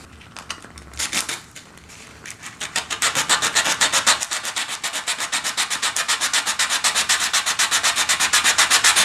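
Sandpaper rubbed back and forth on a guitar nut, close and loud, with rasping strokes that settle into a fast, even rhythm and keep going.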